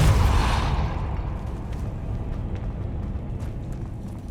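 The Depulso spell fires in Hogwarts Legacy as a loud, close whooshing burst that surges at the start and then trails off into a long, fading rumble.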